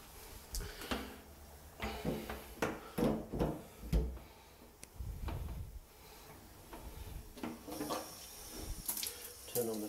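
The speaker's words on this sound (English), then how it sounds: "Turn on the tap." Water runs from a tap through a hose during a flood test, a steady splashing wash with clunks and knocks of handling, under intermittent speech.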